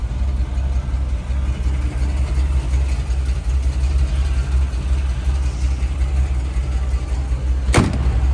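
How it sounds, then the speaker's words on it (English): A 1957 Chevrolet Bel-Air engine idling smoothly and evenly, a steady close rumble throughout, with a sharp click near the end. "I have it running right now and runs like a sewing machine."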